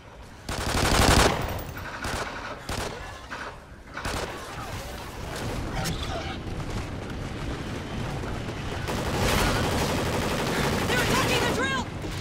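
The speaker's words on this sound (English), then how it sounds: "I just shoot the aliens a few times" Sustained automatic gunfire from Call of Duty: Ghosts Extinction mode as players shoot aliens, loud bursts and rapid shots running continuously with explosive booms mixed in, and voices talking underneath.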